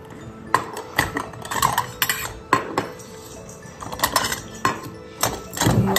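Plates clink and clatter in a series of sharp, irregular knocks as dishes are handled indoors, loud and close, with quiet gaps between bursts and no talking.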